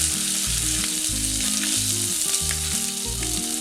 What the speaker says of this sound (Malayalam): എണ്ണ ചൂടായതിന് ശേഷം ഇതിലേക്ക് 1 ഇഞ്ച് വലുപ്പത്തിലുള്ള ഇഞ്ചി ചതച്ചത്, ഇത് ഏകദേശം 1 ടേബിൾ സ്പൂണോളം ഉണ്ട്.